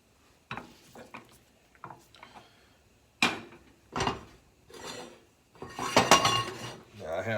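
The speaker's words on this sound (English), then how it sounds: "So we're going to season with salt and pepper. I like fresh cracked pepper." Pepper mill cranked by hand over raw chicken breast, several short separate bursts of ratcheting grinding with clinks of utensils between them, close and fairly quiet.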